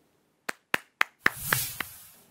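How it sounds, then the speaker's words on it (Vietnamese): Children clap hands in a classroom after finishing a game, six distinct claps in a quick, fairly even rhythm, followed by a brief soft rustle. "Chúng mình cùng vỗ tay vì vừa hoàn thành trò chơi nào"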